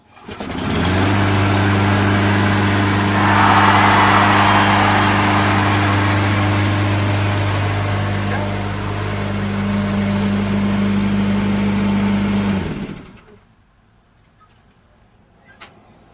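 Toro Wheelhorse Recycler 56132 riding mower with a Briggs 8HP engine starts up and runs at a loud, steady, droning idle for about twelve seconds, then cuts off abruptly, leaving near silence.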